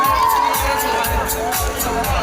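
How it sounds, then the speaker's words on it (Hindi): An audience at a Janmashtami matki phod festival cheers and claps for an award honoree, a loud close crowd roar with a regular pulsing beat about twice a second and shouting voices mixed in. "जोरदार तालियां प्लीज बसंत गोयल जी के लिए।"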